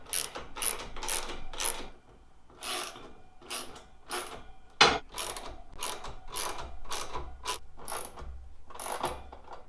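A socket ratchet tightens the mounting bolts of a BajaRack G5 utility roof rack on a Toyota 4Runner, with repeated rapid clicking bursts in a steady rhythm, close and clear, separated by brief pauses.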